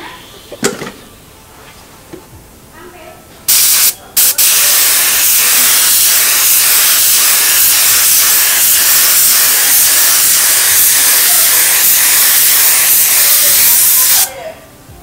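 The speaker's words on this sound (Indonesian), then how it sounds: "Mari kita spray lagi." A spray gun sprays Propan Impra melamine clear doff lacquer in loud, steady hissing bursts: a brief short spurt, then one long continuous spray lasting about ten seconds, with quiet handling sounds before it.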